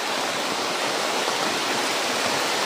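Heavy rain pouring down outdoors, a dense, steady broadband hiss of water with no break, loud and close throughout.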